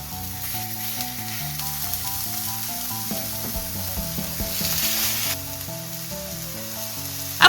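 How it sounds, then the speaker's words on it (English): Steady sizzle of thin Impossible plant-based burger patties frying in a hot skillet, a constant crackling hiss under melodic background music. "I'm frying up the Impossible patties first."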